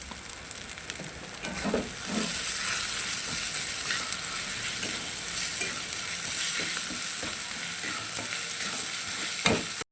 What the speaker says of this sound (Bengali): এবার এর মধ্যে টমেটো কুচিটা দিয়ে দেবো। এর মধ্যে অল্প নুন দিয়ে দেবো।